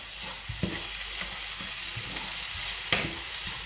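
Onions and spiced minced meat fry in a pan with a steady, close sizzle, broken now and then by the scrape and clack of stirring. No one speaks.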